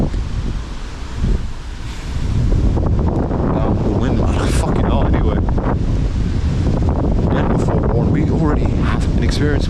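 Strong outdoor wind buffets the microphone in a continuous loud roar that swells after the first couple of seconds, with a voice speaking beneath the rumble.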